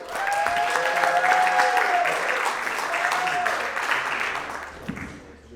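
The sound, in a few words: audience applauding a comedian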